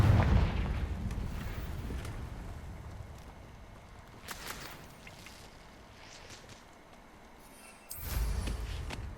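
Blasting spells go off in Hogwarts Legacy, with a booming burst near the start, a sharper crack midway and another heavy explosive boom near the end, separated by quieter rumbling.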